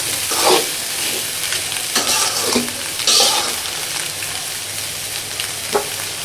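Mixed vegetables for vegetable fried rice sizzle steadily in hot oil in a pan, with a few louder scraping bursts as they are stirred and turned; no voices.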